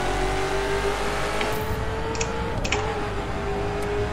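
A Koenigsegg Agera R hypercar engine humming and revving in the racing game The Crew, a close, steady droning engine tone with a few brief ticks and clicks over it.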